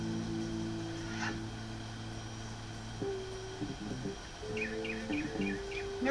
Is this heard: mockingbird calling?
yes